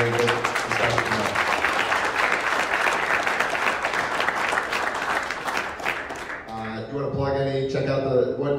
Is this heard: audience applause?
yes